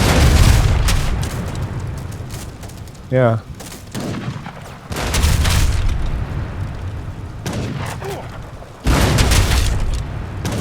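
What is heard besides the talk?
cannon fire in Age of Empires III video game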